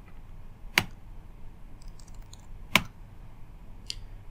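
A few separate keystrokes on a computer keyboard as a database command is entered, three sharp clicks spaced about two seconds apart over quiet room hiss.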